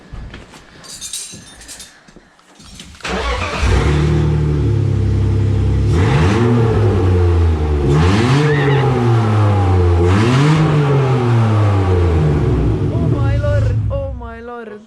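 BMW car engine revved repeatedly while stationary, a loud sustained roar rising and falling in several swells, with people talking in Estonian before and around it.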